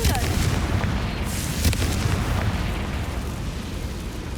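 A Confringo fire spell explodes in the Hogwarts Legacy video game, a loud burst with a crackling, rumbling decay that stays dense and noisy throughout.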